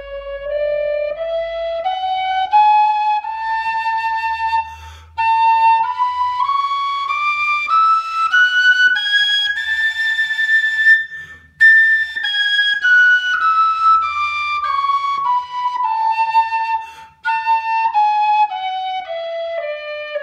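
A bright Shearwater alto A tin whistle plays a scale, rising step by step to a high peak and then descending back down, clear and sustained with brief breaths between notes.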